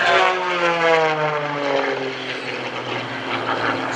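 Aerobatic propeller airplane rolling one way then the other at an airshow, engine and prop droning loud and steady with a falling pitch as it sweeps past, alone without voices.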